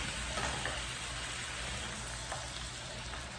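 Chickpea taco filling cooks in a pan with a little water, giving a steady, close sizzle and crackle that goes on without a break.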